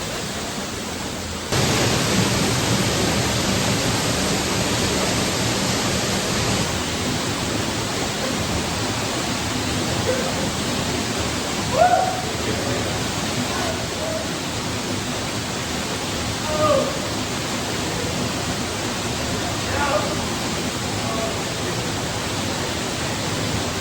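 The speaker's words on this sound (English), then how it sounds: "came to the big waterfall." A big waterfall on a backcountry trail during a solo backpacking trip gives a loud, steady broadband roar that fills the whole recording, with a few faint brief sounds rising above it.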